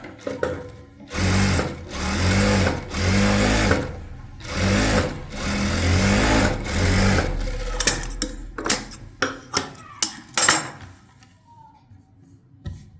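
A sewing machine stitches a blouse in long runs of rapid mechanical chatter, then stops and starts in short bursts and clicks before falling quiet.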